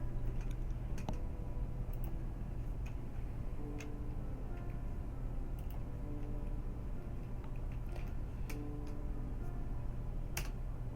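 Rapid keyboard shortcut presses on a computer keyboard while scripting dialogue for a game, heard as light scattered key clicks over a steady background music bed for about eleven seconds.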